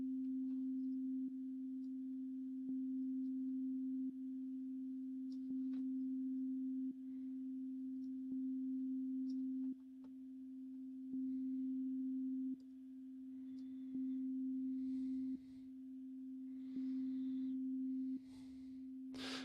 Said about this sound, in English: with a higher release time, we can get these kind of pumping sounds where the sound slowly comes in